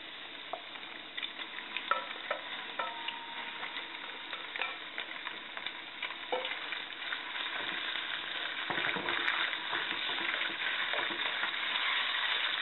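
Tofu, mushrooms and lean pork being stir-fried on high heat, with a continuous loud sizzle and repeated scraping clatter from steady stirring throughout, growing fuller toward the end.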